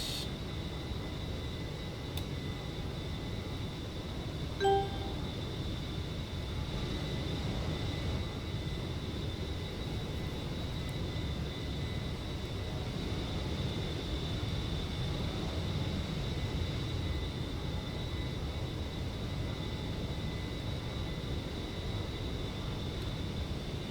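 Aircraft engine cruising at 305 knots in a flight simulator game, a steady low droning hum with a faint constant high whine, unchanging and fairly quiet throughout.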